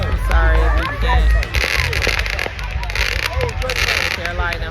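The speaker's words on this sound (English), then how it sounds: "They're lighting fireworks" Festival fireworks crackle and pop outdoors in a dense, continuous stream of sharp bursts, partly masked by wind on the microphone and a person talking over them throughout.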